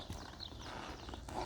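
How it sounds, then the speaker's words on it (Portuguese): Hooves of a Mangalarga horse clip-clop steadily, close and continuous, over a dense, busy ambient background with no talking. "esse manga larga é um cavalo tranquilo"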